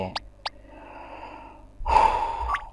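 Heavy character breathing in the horror video game Ao Oni: two sharp short gasps at the start, then a long strained exhale and a louder rough breath near the end.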